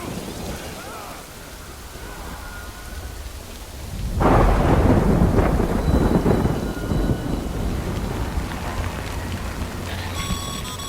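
Heavy rain and thunder in a storm from the video game Death Stranding: a low steady rain hiss swells into a loud, broad rumbling thunder roll near the middle that stays loud and dense to the end, with no talk.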